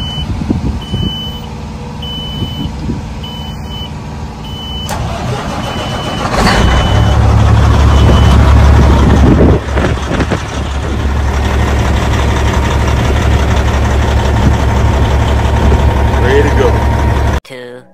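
A semi truck's engine cranks over and catches, then settles into a steady low diesel idle, loud and close, after a stretch of backup beeping.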